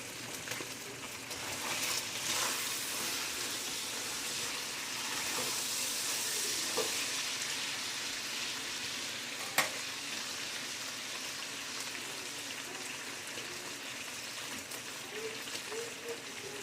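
Oil frying in a pan at home for a dinner meal, where bacon is being cooked, gives a steady close hiss throughout with occasional faint clatter and a sharp click, while people talk quietly underneath.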